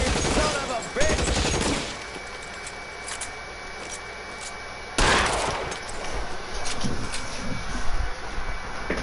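Gunfire in L.A. Noire: a loud burst of shots opens, then a quieter stretch before another sharp volley and continued rattling fire, with game voices mixed in.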